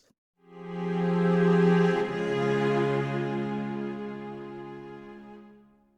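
Sampled orchestral strings play a smooth legato phrase with reverb added, one sustained swelling line gliding between notes and fading away in a lingering reverberant tail, alone with no talk.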